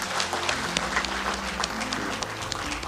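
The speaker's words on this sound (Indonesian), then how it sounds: "kita beri tepuk tangan untuk Prof. Arta Moro sekali lagi." A hall audience applauds at a professor's inauguration ceremony, with a few seconds of brisk, continuous clapping at a steady level.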